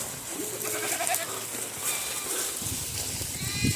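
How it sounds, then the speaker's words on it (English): Goats bleat on a working mountain farm as a herd of goats and cows is moved along, the calls mixed into steady outdoor noise and a farmer's shouted herding talk. "Come on, baby goat."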